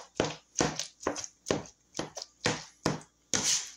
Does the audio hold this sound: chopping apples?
yes